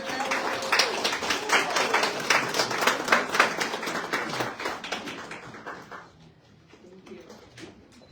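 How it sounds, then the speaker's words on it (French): Warm audience applause at a welcome evening for newly arrived Haitians in Canada, a dense burst of many hands clapping for about six seconds before fading to scattered claps and room quiet. "je vous demande d'applaudir chaleureusement Héraldie Joseph."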